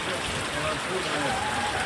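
Heavy rain pours steadily in an open village square in Bidada, Mandvi, Kutch, a dense, continuous hiss with someone talking over it.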